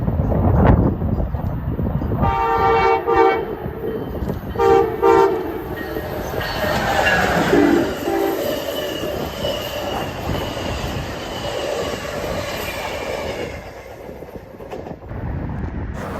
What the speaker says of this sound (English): Amtrak 335 blasted through Lake Cook Road with a Charger leading